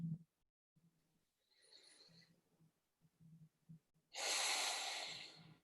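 Slow, relaxed breaths during a guided relaxation exercise, heard close and soft: quiet inhales, then a long, fuller exhale near the end, with silent pauses between.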